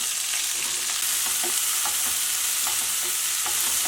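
Bean sprouts and green beans stir-fry in a wok with a loud continuous sizzle, and regular spatula tosses and scrapes cut through the hiss.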